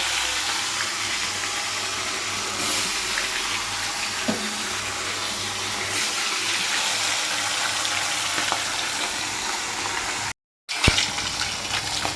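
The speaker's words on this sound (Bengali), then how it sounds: "এই যে এখানে মাছগুলো নুন হলুদ মাখিয়ে দিয়েছিলাম, এবার ভেজে নেব" Fish pieces rubbed with salt and turmeric fry in oil, giving a continuous broad sizzling hiss close by. It drops out briefly near the end, then resumes with a few louder spatters, and no voices are heard.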